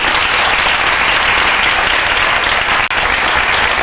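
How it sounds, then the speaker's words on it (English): Audience at a magic show applauding in a dense, loud, continuous burst of clapping that holds steady, with a brief dip near the end. "All those people who are thinking of the letter A, would you applaud? Let me hear how many people."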